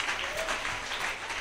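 A church congregation bursts into dense, close applause and cheering, a continuous wash of clapping filling the short moment.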